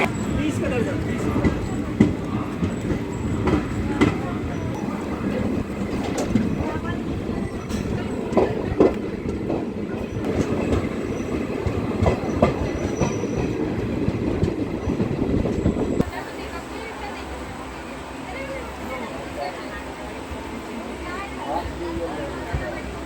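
Festival special train departing Hajipur Junction, a busy station in the Sonpur division of East Central Railway: steady rumble and clickety-clack of carriages rolling past up close, with voices and station chatter around, then quieter wheel noise toward the end.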